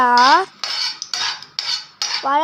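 A spoon scrapes through thick banana leaf halwa in a pan, in four or five rough scraping strokes with short pauses between them and a brief tonal squeak at the start and end.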